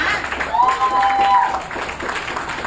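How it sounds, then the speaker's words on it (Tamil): Audience clapping at a leaders' meetup in a hotel hall in Madurai, a dense, steady patter of many hands lasting a few seconds, with a faint tone and some voices mixed in. "So உங்களுடைய கைத்தட்டல்களை கொடுக்கலாம்."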